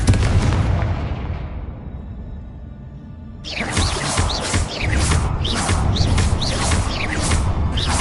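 A Confringo blasting spell going off in Hogwarts Legacy, with a heavy explosive boom that rumbles and fades, then a burst of rapid crackling, popping blasts that continues loudly to the end, with no talking.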